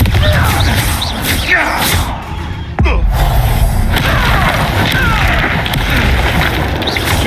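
Confringo spell blasts in Hogwarts Legacy gameplay, deep booming explosions over rumbling game noise, one sharp crack near the middle after a brief dip, loud and close.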